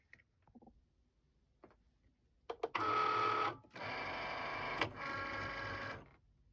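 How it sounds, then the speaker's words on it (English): A Cricut cutting machine draws in its cutting mat: a few soft clicks, then two steady motorized whirring runs separated by a brief pause, fairly quiet and with no voices. "So let's pop that into the machine."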